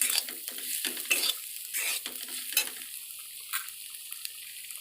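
Sattu fries in a pan with turmeric and ginger-garlic paste while a utensil stirs and scrapes it in quick strokes over a bright, steady hiss of sizzling that continues after the stirring stops.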